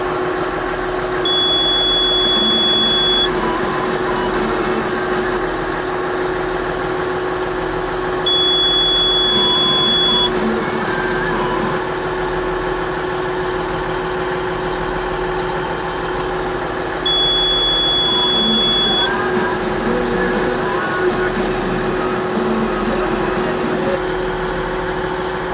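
An excavator engine running at a steady idle, a low continuous rumble that holds close and loud with slight periodic swells in revving throughout.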